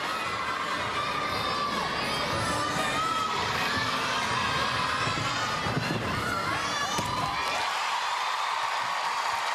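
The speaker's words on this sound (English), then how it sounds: "Listen to the crowd." A gymnastics arena crowd at the Artistic Gymnastics World Championships cheers loudly for a vault, a dense roar of shouts and high voices that swells steadily then drops away near the end.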